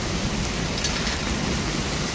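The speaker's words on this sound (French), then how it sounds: "Comme vous voyez, il pleut beaucoup!" Heavy rain pours down under trees during a thunderstorm at a sanctuary, a dense, steady hiss that stays loud and unbroken throughout with no pauses.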